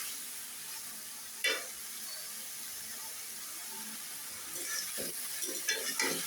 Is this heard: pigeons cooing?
no